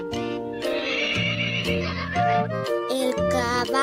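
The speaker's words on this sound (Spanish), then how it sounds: "El caballo." A horse neighing, a farm animal call: one loud, long whinny that wavers up and down in pitch, heard on its own without talk.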